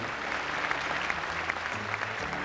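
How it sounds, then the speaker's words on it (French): An audience at the Miss France 1991 pageant applauds a contestant, a dense, steady wash of clapping that carries on without a break. "Avec vos applaudissements pour Miss Midi-Pyrénées"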